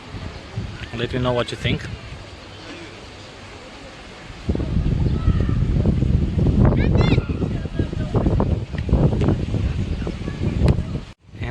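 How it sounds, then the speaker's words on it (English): Low, rumbling wind buffets an LG V30+ phone's microphone outdoors, growing stronger and gustier in the second half, with a person talking briefly near the end. "It's a little bit windy out here."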